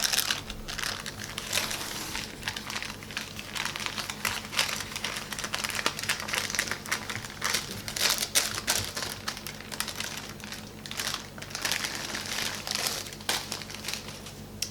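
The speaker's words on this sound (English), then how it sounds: "we'll take the wax paper off." Wax paper peeled and crinkled away from raw pie crust dough in a kitchen, a steady dense run of close, loud crackling and rustling that goes on throughout without pause.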